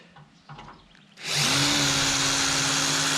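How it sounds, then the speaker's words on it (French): Power drill with a cutter bit boring into a bolt on a 1967 Toyota Corona RT40, starting after a second of quiet handling noise and then whining loudly and continuously at close range. "j'ai percé avec la fraise, j'ai fait un trou dans le boulon"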